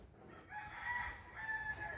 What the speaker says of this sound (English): my neighbor's chicken got over here